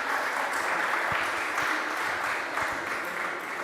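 Conference audience at a chess and business strategy event applauds steadily, a dense wash of clapping held at even loudness throughout with no voices over it.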